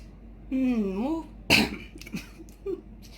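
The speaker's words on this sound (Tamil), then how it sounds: "பொரிச்ச மிளகா தானே மூக்குக்குள்ள ஏறுது, தும்மல் வருது." A person sneezes once, sharp and close, after a stretch of voiced vocal sound, while pounding fried chilies into a Sri Lankan sambal; faint sniffs and small noises follow.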